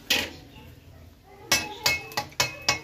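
A spoon stirs dry red chillies and bay leaves in hot mustard oil for a mutton and bottle gourd curry: a soft sizzle, then five sharp metallic knocks and scrapes against the pan, close and distinct.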